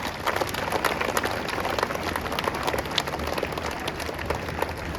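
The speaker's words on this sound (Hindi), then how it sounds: "आप लोग ताली बजाकर स्वागत करें।" An audience at a school lamp-lighting ceremony claps steadily, a dense continuous burst of applause from a crowd filling the room for several seconds.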